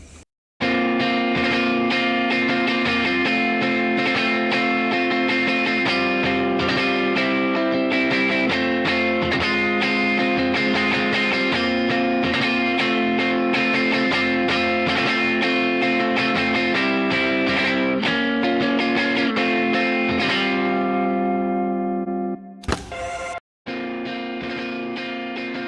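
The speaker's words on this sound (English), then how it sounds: "This is a Vibroverb model of a Fender amp, and this is a Bassman." Distorted electric guitar reamped through Fender Vibroverb and Bassman amp models plays a dense, sustained riff with effects for over twenty seconds, then stops abruptly; a brief burst and a short resumed passage follow.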